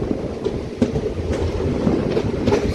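Passenger train running between Rayagada and Koraput, heard from inside a general coach: steady low rumble and rattle of the carriage with periodic wheel clatter, continuous and close, no talking.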